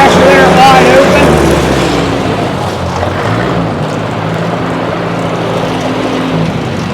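A 1964 Ford 4000 farm tractor with a 62 hp gas engine runs wide open, giving a steady, loud, continuous drone with a low rumble. A voice is briefly heard over it near the start.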